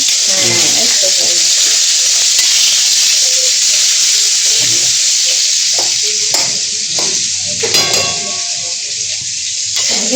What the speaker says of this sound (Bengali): আর এদিকে বেগুন ভাজি হচ্ছে, বেগুন ভাজি